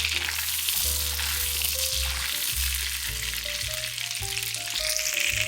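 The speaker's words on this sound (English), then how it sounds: "Now in a pan, you want to melt your stick of butter." A stick of butter melts and sizzles in a pan, making a continuous bright frying crackle close by. Soft background music plays underneath.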